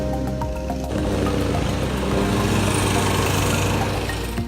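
A lawn mower runs close by outdoors, its engine a loud, steady drone with a rough, grinding texture that grows slightly stronger over a few seconds, with no speech.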